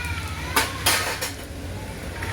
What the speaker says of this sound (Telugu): ఇంకా స్వప్న అయితే అక్కడ గిన్నెలు దమ్ముతుంది.